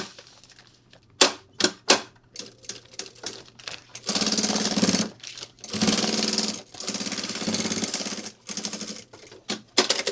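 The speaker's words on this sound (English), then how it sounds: "Now I will top stitch it so that it stays in this orientation." A sewing machine top-stitches binding tape on a 20-litre sling bag, running in short bursts and then in longer sustained rattling passes, close and loud with no talk.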